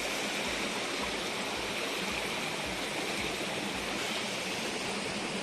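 A river flows past a cement side wall and overflows a mini dam, a steady, dense rushing of water, even and continuous throughout with no voices.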